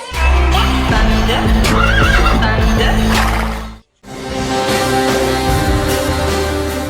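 A horse whinnies loudly and close on a trekking ranch at Lake Okareka near Rotorua, New Zealand, its shrill neigh running for several seconds before a sudden brief silence and then more busy outdoor noise.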